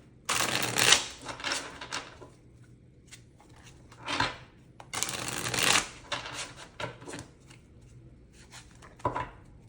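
Tarot cards are shuffled in several bursts of riffling and flicking, with short pauses between, close and crisp against a quiet room.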